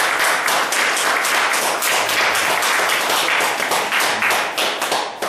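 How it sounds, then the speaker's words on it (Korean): Loud, sustained applause from a large crowd at a church training lecture after a prayer, steady dense clapping lasting several seconds without letting up. "박수해 주시기 바랍니다."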